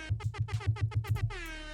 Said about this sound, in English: We're going to give a little air horn to you, sir.